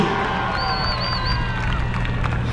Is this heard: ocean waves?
no